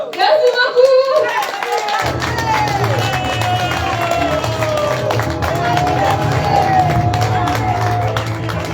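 Conference audience applause: after a short burst of sound, dense, loud clapping starts and keeps going from a large crowd, with some cheering and voices mixed in.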